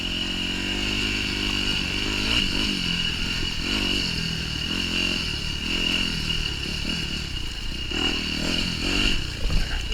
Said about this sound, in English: I just love popping wheelies when you can like that off little rocks.